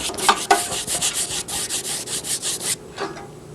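A paintbrush scrubs paint onto canvas in quick rhythmic strokes, about a dozen close, dry rubbing swishes before it stops, followed by a couple of lighter scrapes.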